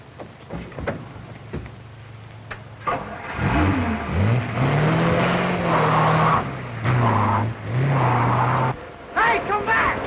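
Car in a 1937 film pulling away at speed, the engine revving up and holding a steady, loud drone for several seconds, with a short break near the end and people shouting alongside.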